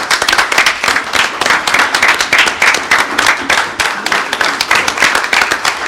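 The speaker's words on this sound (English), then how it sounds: "Give him a round of applause, everybody" Applause at a regular city commission meeting in Holly Hill, dense rapid clapping from a room of people, sustained and fairly close, with little talk over it.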